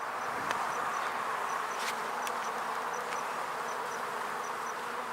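Honey bees buzz during a beehive inspection in a steady, close, dense drone. Faint tonal flickers and a few soft clicks pass over it, and no one speaks.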